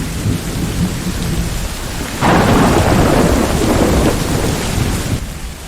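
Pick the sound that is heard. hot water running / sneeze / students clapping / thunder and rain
thunder and rain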